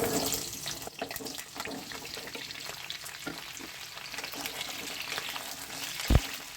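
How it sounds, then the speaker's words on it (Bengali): Mixed vegetables for a chicken curry fry lightly in hot oil with a soft, even sizzle and occasional stirring, then a single thud near the end, no talking. "এবার সমস্ত সবজিগুলোকে আমি একসঙ্গে হালকা করে একটু ভেজে নেব"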